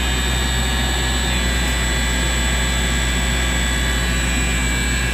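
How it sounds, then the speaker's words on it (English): An industrial air compressor on a frequency drive runs in a steady, loud machine drone with a deep hum, faint high tones on top, and no clear change in speed over the clip. "This here's their air compressor here. It's on a frequency drive,"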